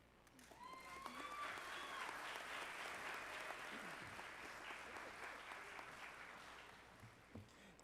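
Sustained audience applause fills a graduation ceremony hall, a dense, steady wash of many hands clapping that gradually tapers toward the end, with a faint voice audible beneath.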